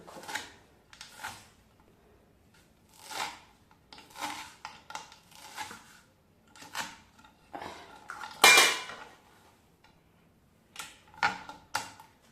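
A knife cuts vegetables for a winter sabzi on a board, with irregular sharp taps and short clusters of chops spread across the stretch, close and fairly quiet, with no talking.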